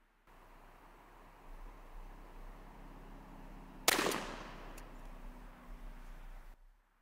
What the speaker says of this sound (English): now we're going to shoot Viper ammunition